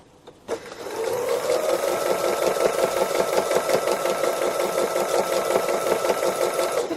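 A sewing machine doing free-motion embroidery starts with a click and then runs in a fast, steady, rhythmic whir of needle strokes, close and continuous with no talk.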